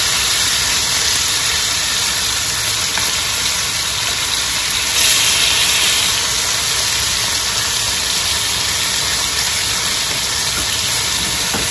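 Dumplings searing in a hot pan, a constant loud sizzle and hiss that holds steady throughout with a brief swell midway, no talking.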